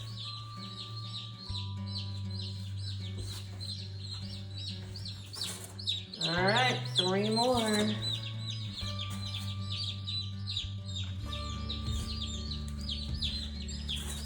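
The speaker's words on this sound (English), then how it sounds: "So these chickens are Cornish Game Hens." Cornish game hens cluck and chirp softly across a steady low hum, with a brief louder burst of calls midway and a short spoken remark.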